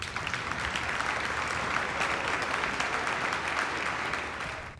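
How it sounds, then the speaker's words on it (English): Applause from a crowd at a dolphin show in the video game Atomic Heart, a dense, even clapping that holds steady for several seconds and then fades slightly at the end. "Your applause, please."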